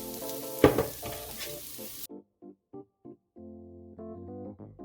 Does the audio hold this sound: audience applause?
no